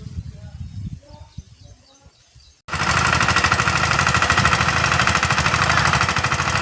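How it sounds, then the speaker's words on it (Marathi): Quiet farm ambience with birds and low rumbles gives way abruptly to a loud, rapid, knocking diesel clatter as two tractors run together during field filling work, the sound steady and close to the end of the clip. "बघू शकताय दोन्ही पण ट्रॅक्टर सुरू झालेले आहेत"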